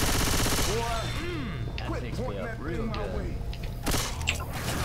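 Gunfire in Left 4 Dead 2 with zombies close by: rattling shots at the start and again near the end, under a muddle of whoops, shouts and game noise, with players' voices heard throughout.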